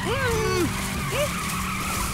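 Cartoon car skidding out of control, a sliding squeal that bends and wavers for about half a second, then a shorter second squeal, over busy background noise and voices.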